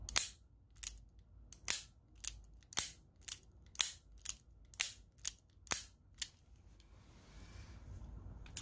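A revolver cylinder is turned by hand, giving a slow, even run of about a dozen crisp metallic clicks, close and clear, followed by a faint rustle.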